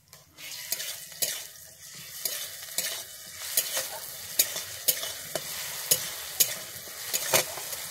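Garlic paste sizzles and fries in a pan with browned onions, a steady crackling hiss broken by repeated close scrapes and clicks of a spoon stirring against the pot.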